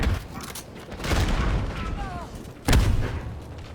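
A flash grenade goes off in a shooter game with a sharp, heavy boom near the end, after earlier rumbling blasts and gunfire, while players talk over the action.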